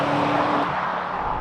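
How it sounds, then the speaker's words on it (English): A BMW M5 Touring engine running in M1 mode, a loud steady drone with a low hum throughout, heard alone without voices. "we're going to start with our nice engine noises in M1 mode."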